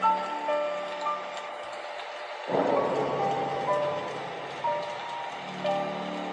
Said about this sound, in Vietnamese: Ngoài trời thì đang mưa.